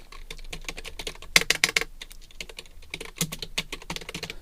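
Rapid typing on a computer keyboard while a school name is entered into an online admission form, with dense irregular key clicks in quick bursts and short pauses, close and clear with no speech.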